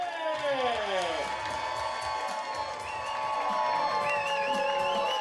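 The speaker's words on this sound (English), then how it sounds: "keep that applause going" A comedy show audience cheers and applauds as the headliner takes the stage, whoops and shouting voices riding over a steady roar of clapping, loud and sustained throughout.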